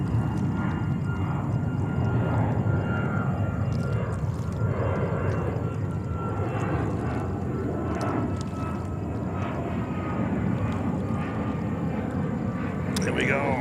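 A Boeing 737 MAX 8 airliner at JFK airport, its jet engines a broad continuous roar with a faint high whine, steady throughout, while people talk over it.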